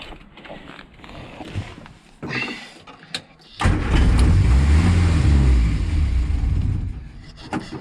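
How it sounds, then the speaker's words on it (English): A 1967 Morris Minor engine running on brake cleaner, starting with weak sputters and creaks, then catching into a loud, steady rumble that rises as the throttle is opened, close up with no talking. "the throttle just makes it rev higher on brake cleaner"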